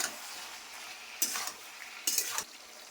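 A spice paste of cumin and ginger for tengra fish charchari is sautéed in oil, a quiet sizzle broken by two louder bursts of stirring and scraping in the pan, close by, no talking.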